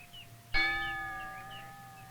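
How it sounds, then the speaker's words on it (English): Two hanging lengths of rail are struck as reveille, a single sharp metallic clang that rings out and lingers, its bright tones slowly fading over a quiet background. "Reveille is sounded on 2 lengths of rail hanging near the door of the dining room."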